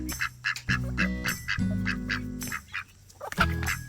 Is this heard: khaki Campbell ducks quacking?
yes